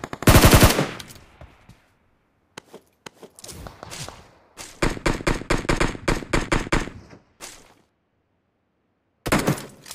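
Gunfire in a battle royale video game: a loud opening burst, scattered single shots, then a long rapid automatic burst and one more burst near the end, with silent gaps between.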